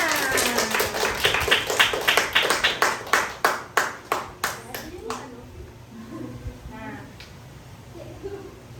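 Children in a classroom clap in unison during a storytelling lesson, a run of about fifteen sharp, evenly spaced claps that ends abruptly, followed by quieter chatter and talk.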